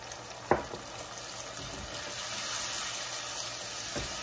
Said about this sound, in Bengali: এখন এই সমস্ত মশলাগুলিকে আমার ভালো মতো কষে নিতে হবে, অ্যাটলিস্ট 5 মিনিট ভালো মতো কষে নিতে হবে